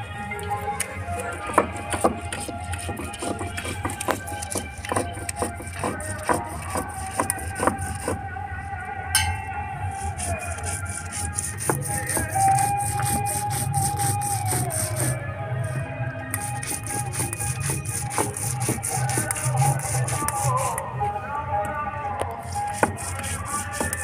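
Soaked spices for steamed hilsa being ground into paste on a stone slab, heard as repeated rhythmic scraping and rubbing strokes at close range, moderately quiet, over a faint background hum.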